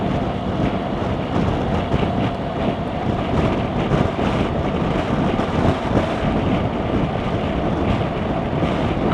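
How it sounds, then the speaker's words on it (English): Strong crosswind roaring over a rider on a 2018 BMW R1200GS Adventure motorcycle, a constant broadband rush of wind buffeting mixed with engine and road drone, loud and unbroken throughout. "Quite a strong crosswind today"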